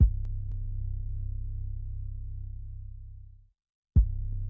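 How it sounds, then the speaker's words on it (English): Synth bass line in a krump beat: a deep, sustained buzzing bass tone holds for about three and a half seconds, cuts to brief silence, then returns with a sharp attack, loud and alone. "I bring this bass in right here."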